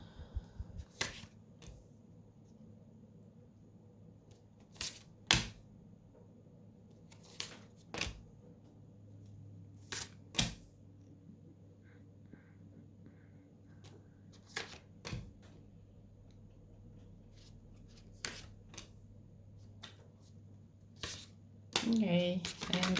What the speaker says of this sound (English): I will pull 4 tarot cards to clarify.